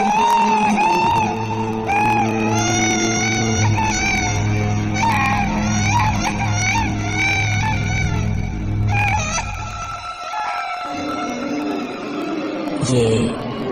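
Wailing, strained cries like a child weeping sound loud and close as an effect in a horror tale about a village well, rising and falling in pitch over a low droning musical bed.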